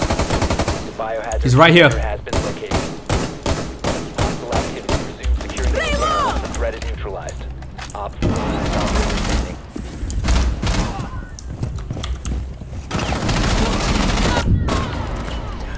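Rapid gunfire bursts in the game Rainbow Six Siege, loud close automatic shots in quick rhythmic strings with thuds and pauses between volleys, a voice speaking briefly over the action.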